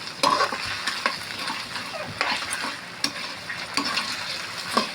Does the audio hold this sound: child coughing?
no